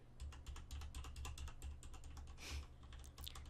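Rapid, steady keyboard typing up close, a dense run of clicky keystrokes with a low background hum underneath.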